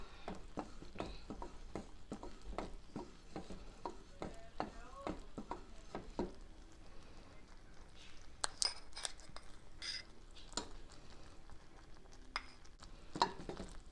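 Butter pieces stirred into a warm chocolate turtle mixture, giving a run of quick, regular scraping and clicking strokes early on, then sparser sharper taps and clinks, close and fairly faint with no talking.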